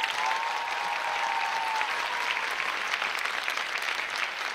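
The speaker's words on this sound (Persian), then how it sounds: "اگر موافقید برزو به تعریف ماجراهاش و به حضورش در خندوان ادامه بده، یک تشویق اساسی." A television comedy studio audience breaks into sustained, dense applause that stays loud and even throughout, with a faint musical tone sweeping underneath.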